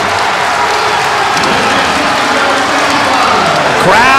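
A roaring basketball crowd at Rose Hill during a Fordham versus UMass game makes a dense, continuous wall of cheering and applause, swelling toward the end with a few sharp sneaker-like squeaks.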